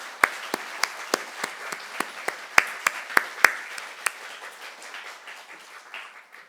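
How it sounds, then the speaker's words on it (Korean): Scattered clapping from a church gathering audience, a few loud individual claps standing out near the start before the applause thins and fades toward the end. "다시 한번 환영의 박수 한번 치면 어떨까요?"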